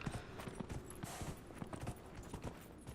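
Horse hooves from the video game Dragon Age: Inquisition clip-clop in a steady, fairly quiet rhythm, with faint mechanical creaks mixed in and no talking.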